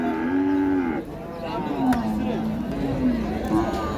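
Cows moo loudly and repeatedly, long low calls over a busy background of crowd noise and shuffling at an outdoor cattle market in Chandina, Comilla, Bangladesh.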